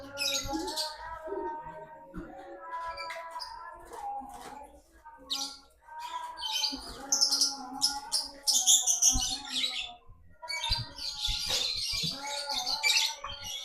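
Caged lovebirds chirping and squawking continuously, a busy mix of shrill tweets and harsh calls from several birds close by, with faint talk in the background.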